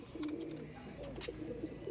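Pigeons from a loft, shown for sale, cooing softly and faintly in low murmuring phrases with a couple of brief sharper noises.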